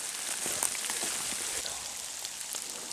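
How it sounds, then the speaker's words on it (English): Cold rain mixed with sleet falls on a hiking trail along the Old Loggers Path, a steady close hiss of drops with a few soft spatters and no voices. "If you like 35 degrees and sleet and rain."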